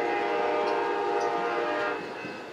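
A long train rolls past near Kalamazoo, Michigan, with a steady horn blast and heavy rail rumble that stay loud for most of the stretch before easing off slightly at the end; no talking.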